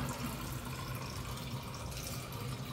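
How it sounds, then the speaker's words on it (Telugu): Water used to rinse millets is poured out of a vessel, giving a soft, steady trickle and splash that runs without a break at low volume, with no voices. "సో బాగా కడిగారు, కడిగిన నీళ్ళు వంచేస్తున్నారు."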